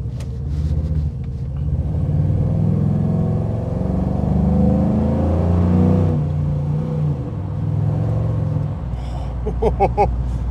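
A 1960 Chevrolet Bel Air fitted with an LS3 V8 of 430 horsepower accelerates hard, its deep engine rumble rising and holding loud and close for several seconds before easing off near the end, with a brief voice at the start.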